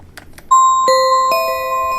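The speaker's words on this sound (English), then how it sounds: "we're going to choose synthesizer, bell, and then I like to use the delicate bells" Delicate bells from a GarageBand synthesizer software instrument, playing a few clear, ringing struck notes in sequence. Each tone sustains and overlaps the next with a bright, sweet shimmer, heard alone and up close.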